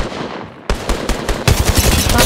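Gunfire in the mobile shooter Apex Legends Mobile: after a quiet moment, rapid bursts of automatic shots crackle close and loud, growing denser toward the end.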